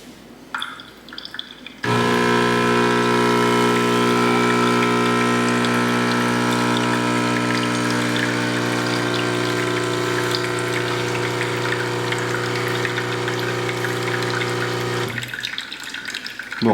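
A DeLonghi Dedica espresso machine pumps hot water to preheat, a loud, steady mechanical hum with a tonal buzz that starts abruptly, runs unbroken for about thirteen seconds, then stops.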